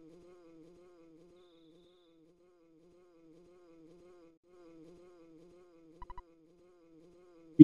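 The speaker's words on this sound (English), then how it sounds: "Did you hear a buzzing that sounds like a bee flying around?" Bee-like buzzing in the SNES game Earthbound, a faint steady wavering drone throughout, broken by a few soft clicks near the end and a sharp knock at the very end.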